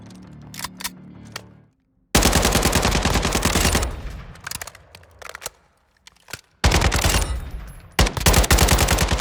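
A customized AK rifle with muzzle brake, laser sight and 40-round magazine fires loud, rapid automatic bursts in the video game Modern Warfare II, several long volleys broken by short gaps and a few faint clicks.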